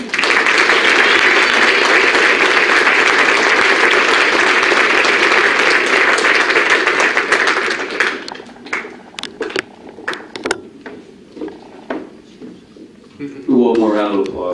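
An audience at a college athletics senior awards assembly breaks into loud, sustained applause that thins out after about eight seconds into scattered individual claps before a voice speaks.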